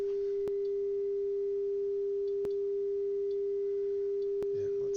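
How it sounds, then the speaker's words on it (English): A steady 400 hertz sine test tone from electronics bench equipment, a pure unbroken hum holding at constant level throughout, punctuated by three brief sharp clicks spaced about two seconds apart. "So now both your ears should be hearing 400 hertz now."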